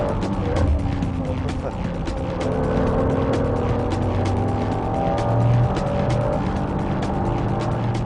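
A Honda NSX-R race car drives hard on a track, its engine note rising and holding under a continuous roar with other racing cars nearby, while a voice narrates over it.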